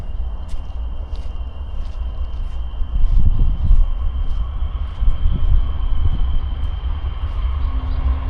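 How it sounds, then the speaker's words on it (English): A train passes at the Cesar E. Chavez National Monument, a low rolling rumble that swells partway through and carries on steadily beneath a faint high tone. "There goes another train."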